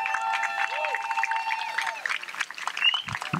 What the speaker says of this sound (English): Let's give Georgia a big round of applause.